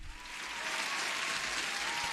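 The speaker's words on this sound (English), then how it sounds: "Everybody has to have another applause again." Steady applause from a crowd fills the short stretch, starting a bit softer and then holding a dense, even clatter of many hands at moderate volume with no voices on top.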